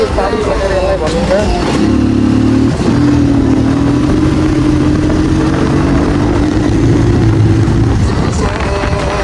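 A motorcycle engine drones loudly and steadily while being ridden along a rural road past fields, with a sustained hum and a slight rise in pitch, and a rider talks over the engine noise.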